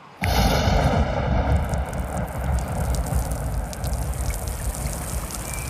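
A heavy rain shower begins abruptly and keeps up as a dense, steady hiss and patter, loud and close, with no voices.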